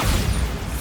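A Bombarda blasting spell detonates in the video game Hogwarts Legacy, giving a loud, dense, rumbling explosion with heavy low-end roar that stays steady for under a second, with no voices.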